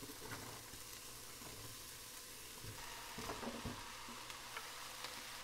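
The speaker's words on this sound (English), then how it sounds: "I'm just gonna add the rest of the vegetables" Carrots, mushrooms and zucchini cook in a pan with a soft, constant sizzle, faint and close, with occasional stirring scrapes and clicks.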